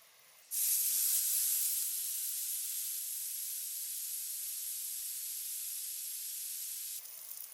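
Pepper steak and vegetables splashed with cooking wine land in a hot skillet, bursting into a loud, sustained hiss of sizzling steam that holds evenly for several seconds, then drops away abruptly.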